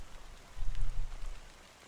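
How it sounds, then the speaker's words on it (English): Steady rain falls in a video game scene, a soft continuous patter with a brief low swell in the middle. "how long has this rain been going on for?"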